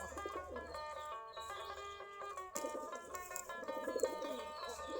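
Native breed pigeons coo in soft repeated rolling calls, several birds overlapping at close range throughout.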